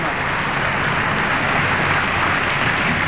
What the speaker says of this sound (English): the chamber again erupts in applause